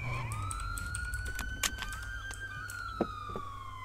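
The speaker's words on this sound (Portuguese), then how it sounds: "Ó, desliga a sirene." A police car siren wails continuously in the GTA RP video game, its rising and falling tone heard close and loud over engine rumble, with a couple of sharp clicks.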